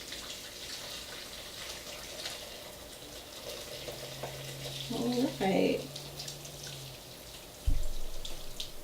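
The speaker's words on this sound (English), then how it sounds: "I'm going to try to just pour this into the strainer over a bowl" Broth is poured through a strainer set over a bowl in a kitchen, giving a brief splashing gurgle midway over a low background hum, with a short spoken word nearby.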